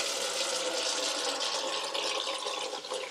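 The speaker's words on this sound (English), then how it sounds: "Put some more cold water in." Cold water pours steadily into a basin for a wool wash, a continuous close rushing splash with no pauses.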